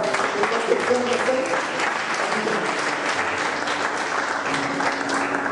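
A church congregation applauds and acclaims the Lord in a long, steady roar of clapping, with voices and cheers mixed in throughout the crowd.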